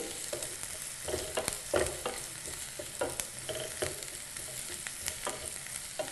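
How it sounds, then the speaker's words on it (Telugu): Chopped onions and green chillies frying in oil for a tomato cauliflower potato curry, a constant quiet sizzle broken by repeated scraping and stirring strokes of a spoon in the pan. "పచ్చిమిర్చి వేసుకొని ఒకసారి బాగా కలుపుకోవాలి"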